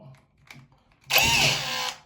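A power drill bores into ceramic tile using a screw-type bit, one loud continuous burst of near whirring and grinding lasting under a second, preceded by faint handling clicks.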